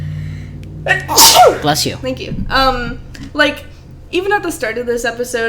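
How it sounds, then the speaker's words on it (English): A person lets out one sharp, loud sneeze near the start, and speech follows right after it. "Oh my god, I have to sneeze."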